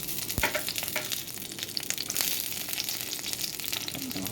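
Shallots hit hot coconut oil and sizzle loudly, a dense steady crackle with sharp pops and a brief stir scrape, close and continuous throughout.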